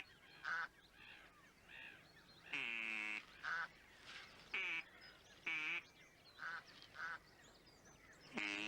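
Ducks quacking in a loose series of loud, harsh calls, some short and some drawn out and honking, spaced irregularly over several seconds with no talk.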